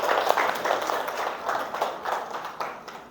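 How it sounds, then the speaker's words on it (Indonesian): A classroom of students gives short, loose rhythmic clapping for a group after a math presentation, fairly close and moderate in volume, fading over a few seconds. "Kasih tepuk tangan untuk Putih."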